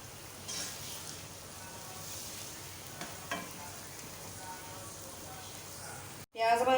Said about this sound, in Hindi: सबसे पहले ऑयल गर्म हो जाए तो प्याज डाल दें।